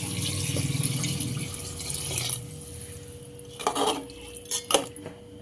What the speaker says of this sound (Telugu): రెండున్నర కప్పు వాటర్ వేసుకొని మిక్స్ చేసుకోవాలి